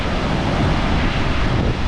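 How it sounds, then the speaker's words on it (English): Heavy water rushes steadily down waterfalls along the Vernal Falls trail in Yosemite, a dense, continuous roar close by with no voices. "Lots of water flowing here, that's for sure."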